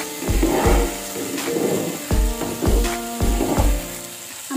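Masala spices fry in oil for a Bengali rui fish curry, a loud steady sizzle broken by repeated knocking scrapes of a spatula stirring the pan, close and without speech.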